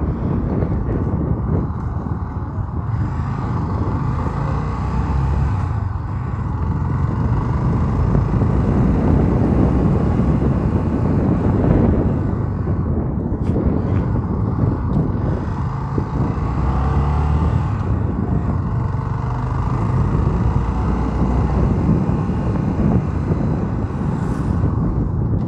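A motorcycle climbing a hill toward a statue in São Joaquim do Monte, Pernambuco, with a steady engine drone and heavy wind rush across the microphone throughout, close and loud with no talk.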